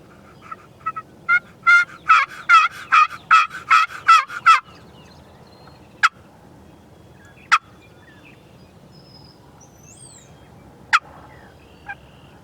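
Wild turkey toms gobble in a rapid burst of repeated calls, followed by a few sharp, isolated gobbles and clucks spaced apart, fairly close and clear.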